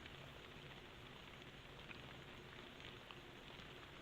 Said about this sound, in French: Écoutez la pluie, c'est super